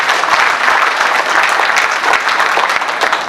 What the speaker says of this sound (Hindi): तो पहले तो किशोर जी के लिए जोरदार तालियां बजाओ मन से।